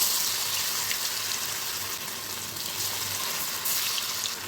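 Cauliflower pieces deep-frying in hot oil over a medium flame, a steady dense sizzle and bubbling hiss that holds close and loud for the whole stretch, with no voices.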